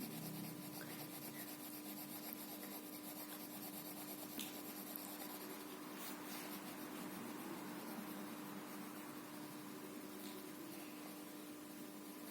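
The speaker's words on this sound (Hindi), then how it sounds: "शेडिंग के लिए हल्के हाथों से अपनी पेंसिल्स को" Pencil shading lightly across paper in a still life drawing, a soft continuous scratchy rubbing heard close and quiet.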